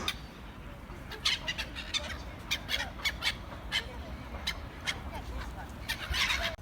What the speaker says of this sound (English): Oh, I hate birds.